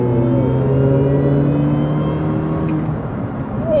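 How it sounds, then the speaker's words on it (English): A Mini Cooper S R53 John Cooper Works GP pulls under load, its supercharger giving a loud, steady whine layered over the engine drone, with the pitch sweeping up sharply just at the end. "we'll try and get that supercharger whining away for you."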